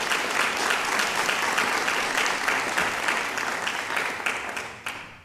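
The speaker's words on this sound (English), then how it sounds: "Please give a big round of applause for these 2 inspirational" An audience at a high school awards ceremony gives sustained applause for award finalists, dense clapping holding steady and then thinning out toward the end.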